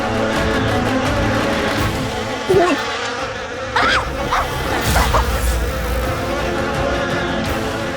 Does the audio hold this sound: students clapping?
no